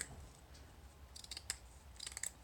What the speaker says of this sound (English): I'm going to cut a bigger piece than what I actually am going to need